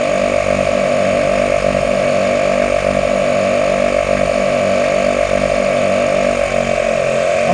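A truck engine runs steadily throughout, a loud, continuous rumbling drone with an even pulsing rhythm and no talk, heard near while tires are being pressure-filled.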